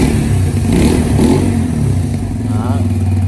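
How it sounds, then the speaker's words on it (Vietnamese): Brixton Cafe 150 motorcycle engine running close by and revving, a steady throbbing mid-pitched drone that swells in brief throttle blips over about three seconds. "Nổ máy cho anh em nghe luôn."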